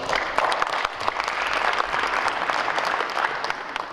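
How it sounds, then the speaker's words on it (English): Conference audience at a regional hotel-owners' gathering claps steadily, a dense, even wash of applause from many hands lasting several seconds without a break. "Let's give Chris a round of applause."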